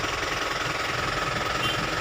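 A 100 PS Isuzu Elf NLR 55 LX diesel truck engine idles with a rapid, steady knocking clatter and a low rumble underneath. It is close, constant and unbroken.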